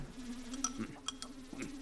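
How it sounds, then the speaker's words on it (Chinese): A housefly buzzes indoors in wintertime with a thin, continuous drone, quiet and fairly close, alongside faint scattered clicks and no speech. "大冬天的，这哪来的苍蝇啊？"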